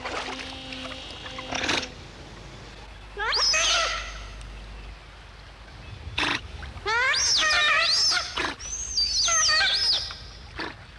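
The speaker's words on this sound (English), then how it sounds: "Giant otters are extremely vocal." Giant otters on a river call out in bursts of loud, wavering screams and wails with rising and falling pitch, separated by quiet pauses and a few shorter squeals.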